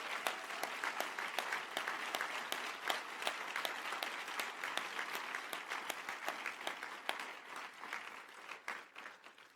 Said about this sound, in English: So let's give a round of applause to the families.